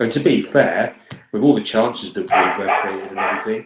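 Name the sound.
dog barking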